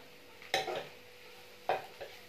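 Garlic frying in a pan for macaroni, with two distinct stirring scrapes of a utensil against the pan over a faint background sizzle, close and moderately loud with no talking.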